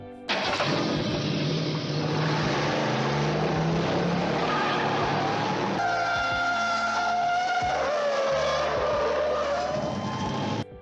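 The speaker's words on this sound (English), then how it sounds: "the legendary engine sound we hear in the film wasn't the real sound of the Trans Am" A powerful car engine roars and revs loudly throughout, with shifting pitch, tire squeals, and racing sounds layered together, no talking; a Chevrolet used for the 1977 Trans Am's sound effects.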